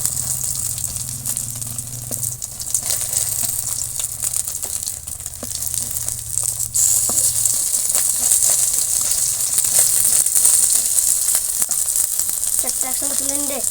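Bombay duck (loitta) fish frying in hot oil, producing a steady, close sizzling hiss that continues throughout with occasional crackles and soft utensil stirring noises.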